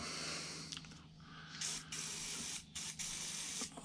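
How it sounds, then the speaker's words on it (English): Close bursts of WD-40 spray on a Hayter Harrier 48 lawn mower, heard as several sharp hissing sprays of varying length separated by short pauses. "WD-40 as well."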